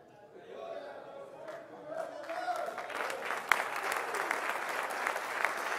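A church congregation at a men's conference applauds, the clapping swelling from scattered claps to a full sustained round while voices talk and murmur through it.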